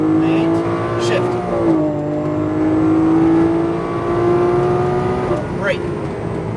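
Lamborghini Aventador engine powering down a race track straightaway, a loud steady roar that rises with a gear shift about two seconds in, continuous and close throughout while an instructor talks over it.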